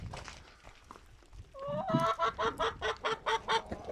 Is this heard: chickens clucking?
yes